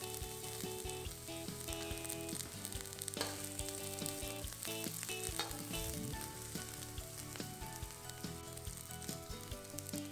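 Garlic sizzles in a tablespoon of hot oil in a wok over medium heat for a Chinese broccoli stir-fry, giving a dense, continuous frying crackle with occasional stirring clatter.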